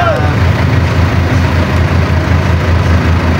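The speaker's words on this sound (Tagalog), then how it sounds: "buhay itong makina" A car engine with a broken transmission idles steadily nearby, a low continuous rumble that holds without a break.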